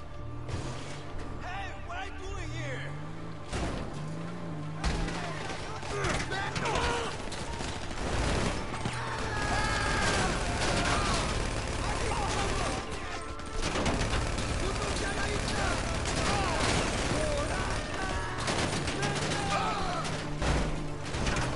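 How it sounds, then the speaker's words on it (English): Rapid, dense gunfire from enemies in GTA 5 crackles almost without pause, bursts layered over one another at close range, with some short louder impacts mixed in. "they're all shooting at me"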